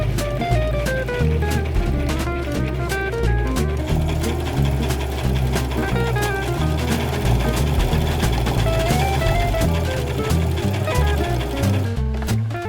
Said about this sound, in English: when I sew this, I'm going to pull the fabric a little bit while I sew